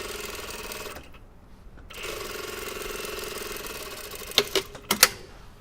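A sewing machine stitching a jeans pocket bag runs in a fast mechanical whir, pauses for about a second, then resumes steadily, with a few sharp clacks and clicks near the end.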